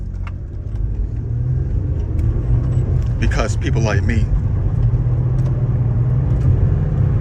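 Cars passing through a road intersection, a steady close engine rumble and tyre roar of road traffic, with someone talking over it.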